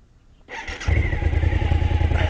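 A motorcycle engine cranks and fires up after the ignition is switched on, settling into a steady, loud, close idle rumble that continues to the end.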